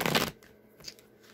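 A deck of tarot cards gets a quick, close riffle: a short dense burst of flapping card noise, then a few faint soft clicks and rustles.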